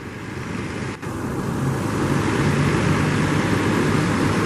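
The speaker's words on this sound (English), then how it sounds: "Pushing away from the side with the motor trimmed high, trimming down." A boat's outboard motor roars steadily during a launch on the St Lucia Estuary, trimmed high and then lowered, a loud continuous broadband drone that swells slightly after a brief dip.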